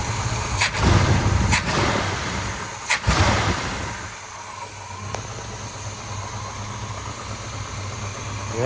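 A big-block 1972 Chevrolet Nova engine, freshly fitted with a new carburetor, idles steadily with a low rumble after a few sharp clicks and revs at the start, settling into an even idle.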